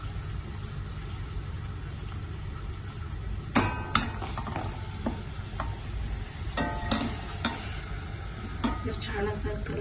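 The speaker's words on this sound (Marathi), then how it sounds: "मीडियम फ्लेमवर मी अशी छान लालसर होईपर्यंत तळून घेते" Tikhat puris fry in hot oil over a medium flame, giving a soft, steady sizzle. Scattered clinks and taps from a utensil against the pan sound over it.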